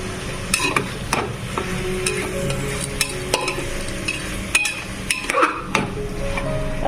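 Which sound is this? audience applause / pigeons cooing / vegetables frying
vegetables frying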